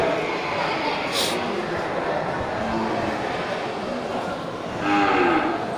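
Slaughter-ready cattle at a livestock sale, a drawn-out low moo carrying over steady background noise, with a second call rising near the end.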